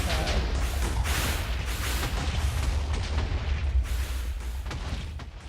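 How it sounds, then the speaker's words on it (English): A continuous barrage of deep booming wither explosions and crackling blasts in Minecraft, rumbling heavily and overlapping without pause. "it's hard to talk over the withers explosions"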